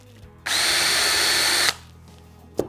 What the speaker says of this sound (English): Take a drill bit that's got a self-centering drill.